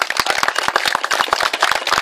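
A crowd claps loudly and steadily, a dense run of close handclaps with no pauses.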